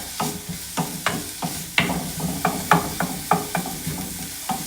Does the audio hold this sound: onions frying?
yes